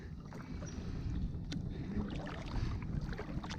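A kayak is paddled on the river around Navy Island near Niagara Falls, with a steady soft wash of water and wind running under a few faint paddle splashes, quiet and continuous with no voices.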